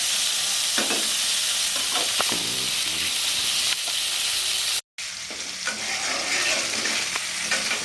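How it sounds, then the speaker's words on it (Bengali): Okra fries in a pan, Bengali style, with a loud, constant sizzle and hiss under scraping stirs, briefly cutting out for a moment before resuming. "এটা ভাজতে ভাজতেই সিদ্ধ হয়ে যাবে কোনো জল টল লাগাবো না"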